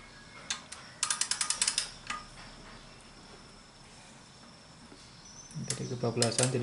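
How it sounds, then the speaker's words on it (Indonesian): A wrench ratchets as a Suzuki Katana engine's crankshaft is turned, giving quick runs of close metallic clicks, a quiet pause, then a fuller clattering burst. "Jadi saya putar berlawanan arah jarum jam jauh, kemudian saya putar lagi searah jarum jam karena tadi kebablasan."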